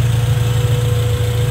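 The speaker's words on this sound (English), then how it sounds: "this is the engine running" Acura Integra with a B20 VTEC engine idling smoothly after a coil-on-plug conversion and valve lash adjustment, a steady, even low hum that holds close and constant throughout.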